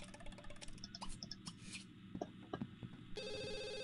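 Electronic telephone ringing in The Sims 2 video game, a repeated ringtone pattern over background game music and effects, moderately loud and close.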